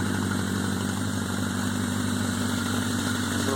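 Yamaha Maxim XJ1100 motorcycle engine idling roughly in a garage, a loud, steady close-up chug with an uneven, lumpy pulse and no voices.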